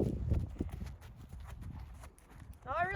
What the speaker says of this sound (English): So I'm going to stay in one area and drive the horse forward